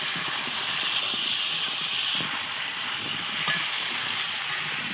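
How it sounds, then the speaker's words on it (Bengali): Potatoes dusted with turmeric fry in oil in a wok, giving a constant close hissing sizzle with faint scraping knocks from stirring underneath. "হলুদ গুঁড়োটা দিয়ে ভালো করে নেড়ে চেড়ে ভেজে নিতে হবে আলুগুলো।"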